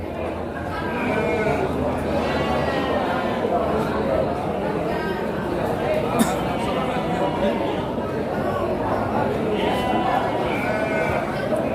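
Sheep and goats bleat repeatedly at a busy livestock market in Cikaret, Cianjur, with overlapping calls near and far under constant crowd chatter and people talking.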